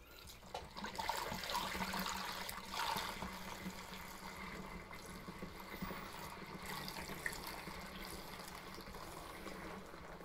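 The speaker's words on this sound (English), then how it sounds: "So now I will pour this extract in." Beer brewing extract is poured for a home brew of Tooheys Draught, giving a soft, continuous liquid pour and trickle that runs steadily for about ten seconds, fairly faint and close, with no talking.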